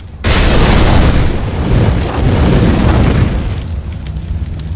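A loud grenade explosion booms on the Cache map in a tactical shooter, a sharp onset followed by a heavy, rumbling roar that lingers for several seconds before tapering off.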